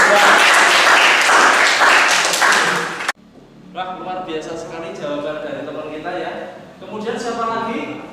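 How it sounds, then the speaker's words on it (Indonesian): Classroom students clapping hands in a loud burst of applause for about three seconds, cutting off abruptly, followed by someone talking. "Wah, tepuk tangan."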